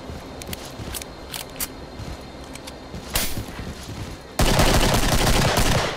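Gunfire in the Killing Floor shooter, scattered quick shots and clatter, then a sudden burst of dense, loud noise in the final seconds, with no talking.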